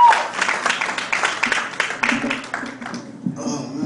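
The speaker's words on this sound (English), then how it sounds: "Y'all give him a round of applause" Crowd applause for a poet at a spoken-word open mic, a burst of clapping that gradually thins out over a few seconds.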